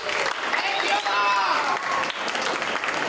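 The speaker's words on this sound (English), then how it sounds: "Let's give our audience a round of applause." Audience at a school gifted-and-talented jazz concert breaks into a steady round of applause, dense clapping filling the room for about three seconds, with some cheering and voices mixed into the crowd noise.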